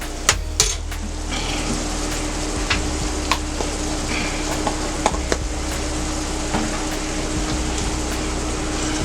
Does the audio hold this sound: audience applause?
no